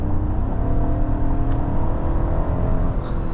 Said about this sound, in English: this thing still has that awesome burbly V8 sound